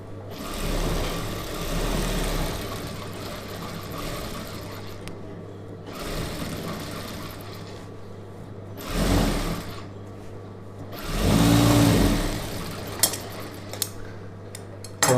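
USHA sewing machine stitching a star-neck chudidhar, several bursts of whirring motor and needle clatter separated by pauses, close with no talk.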